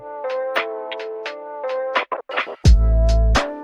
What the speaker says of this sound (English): the 4th bar is gonna have that turntable effect